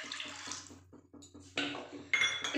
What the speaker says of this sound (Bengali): আচ্ছা, 3 বাটি জল দিয়ে দিলাম।